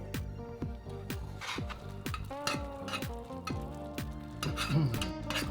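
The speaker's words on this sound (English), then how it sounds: "Now you want to stir this constantly the whole time and heat it over medium heat." Mountain Dew candy syrup stirred constantly in a pot on the stove over medium heat: rhythmic scraping strokes about twice a second over a steady bubbling sizzle, close and clear with no talking.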